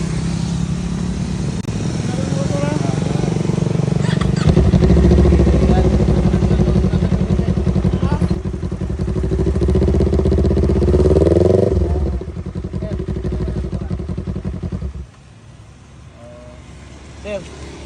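A big bike motorcycle stopped at a roadside check idles and revs loudly through a failing exhaust muffler, a harsh, rattly roar that swells and then drops, with voices talking nearby.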